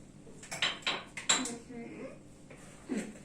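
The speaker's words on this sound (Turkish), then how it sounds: "Çırpıyorum." Cake batter with sugar whisked in a bowl at home, a run of quick metallic clinks and scrapes against the bowl, close, with a voice briefly heard.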